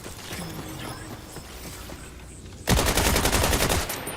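In Borderlands 4, the Gruppergrack full-auto gun fires after a quieter stretch of ambient game sound. It bursts into a loud, rapid, continuous stream of shots that holds for over a second before easing slightly.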